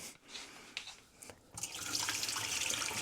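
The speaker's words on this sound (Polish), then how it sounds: "wymienię wodę, bo trochę jest brudna" Tap water runs into a kitchen sink to replace dirty water used for washing potatoes, a steady splashing stream that starts softly and grows louder and fuller after a brief pause.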